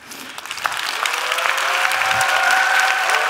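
Audience applause at a Sebasi lecture talk in Korea, a dense wash of many hands clapping that swells and stays steady and full, with a few faint tonal streaks and no voices over it.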